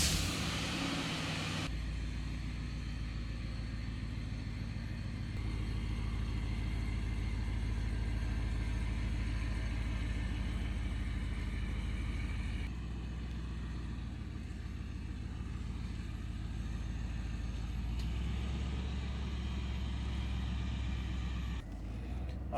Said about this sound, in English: we're just going to drive it around the complex a little bit